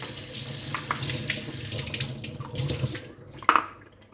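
Running water from a tap splashes over a new stone mortar and pestle as it is rinsed, a steady close rushing flow that cuts off near the end, followed by a brief clink.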